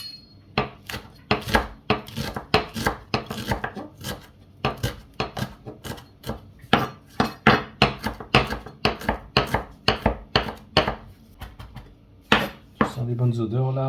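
Fresh coriander, parsley and mint are chopped finely with a knife on a board, giving a fast run of sharp, close knocks in an uneven rhythm, with a faint voice at the very end.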